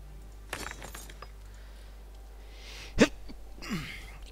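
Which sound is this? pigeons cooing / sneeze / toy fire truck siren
sneeze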